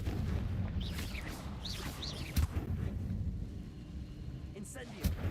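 Confringo blasting spell in the Hogwarts Legacy video game, a couple of sharp blasts punching through a busy game soundscape with chirping effects, one sharp burst midway and another near the end.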